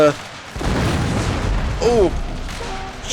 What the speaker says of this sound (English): cannons are firing canister round